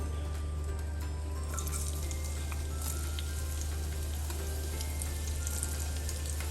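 Chopped onion fries in hot oil over a medium flame, a steady soft sizzle and crackle with a constant low hum beneath, no one speaking.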